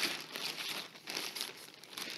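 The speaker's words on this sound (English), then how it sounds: "drop the whole thing in a Ziploc bag" Balloon rigging wrapped around cardboard and held with a rubber band, dropped into a Ziploc plastic bag: a close, quiet crinkling and rustling of thin plastic in uneven bursts, with no voices.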